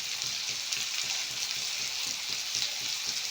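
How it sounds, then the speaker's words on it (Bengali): Potatoes sizzle and fry steadily in a hot pan as salt and turmeric are stirred in, a dense, continuous crackle with faint rhythmic stirring scrapes underneath, close and fairly loud throughout. "আলুটা বেশ একটু ভালো করে ভেজে নিয়েছি। এখন মশলা দেব"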